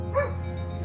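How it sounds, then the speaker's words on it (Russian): A dog gives a single short bark, fairly close and clear over a steady low background hum, heard outdoors during a missile launch alert in Berdiansk. "Собака лает."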